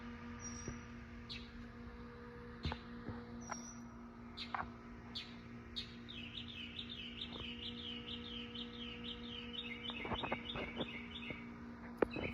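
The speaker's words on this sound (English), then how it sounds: "since when do birds chirp at" Birds chirping in the middle of the night around 2 a.m., a series of faint high tweets and repeated trilling calls over a quiet, humming background.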